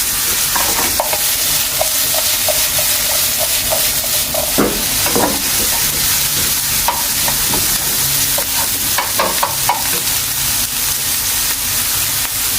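Chopped shrimp frying in a hot pan, a loud continuous sizzle with repeated spatula scrapes and taps as it is stirred, close by and without talk.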